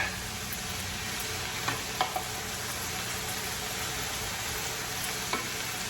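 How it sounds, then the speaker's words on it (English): Okra sautés in a pan with butter and garlic, giving a steady close sizzle with a few soft clicks of stirring scattered through it. "You can see the okra in the pan sauteing."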